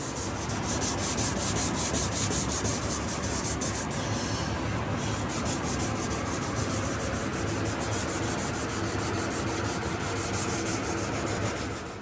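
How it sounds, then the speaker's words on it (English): Close, steady sanding over rock chip repairs on a 1968 Chevrolet Chevelle SS, a loud continuous abrasive rubbing with a rhythmic back-and-forth pulse early on that evens out into a constant scratchy hiss. "But we're going to sand where we did these rock chips."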